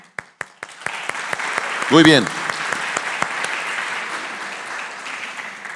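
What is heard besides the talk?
applause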